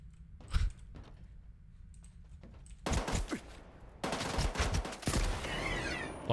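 Gunfire rings out in the video game S.T.A.L.K.E.R. 2: Heart of Chornobyl, with a few isolated shots followed by louder dense bursts of rapid firing and some clicking.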